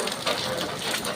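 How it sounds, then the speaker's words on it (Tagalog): Heavy rain with strong wind pours down outdoors on a walk home through a sparsely peopled neighborhood, a steady dense hiss that fills the whole short stretch with no voices. "ang hirap po mag-video ng lakas ng ulan"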